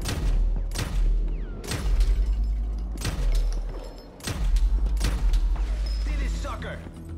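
Heavy gunshots crack in repeated bursts, about six loud close impacts spaced a second apart, as jewelry display cases get shot open during a Grand Theft Auto V store robbery.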